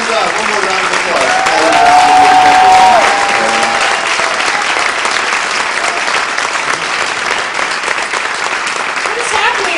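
An audience at a live concert in Olds applauds after a performance, a loud, steady wash of clapping from a crowd that swells slightly and then holds evenly throughout.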